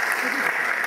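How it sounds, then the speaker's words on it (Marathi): Audience at an institute event claps to welcome dignitaries onto the stage: a brief, dense burst of steady applause, fairly close, with voices mixed in. "आपण टाळ्या वाजून या मान्यवरांचं सहर्ष स्वागत करणार आहोत."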